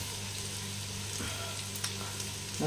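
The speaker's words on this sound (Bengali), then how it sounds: "পেঁয়াজটা ভালোভাবে ভাজতে হবে" Onion frying in a pan for a potato and pumpkin bhaji, a steady even sizzle throughout with faint clinks, no talking.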